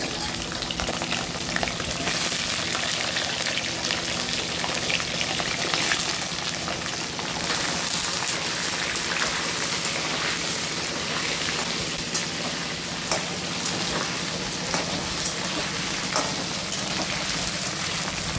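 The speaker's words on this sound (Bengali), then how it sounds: "প্রথমেই আমি আলুগুলো ভেজে নিচ্ছি" Potatoes frying in hot oil for a biryani, a steady dense crackle and hiss running unbroken and fairly loud throughout, with no talking.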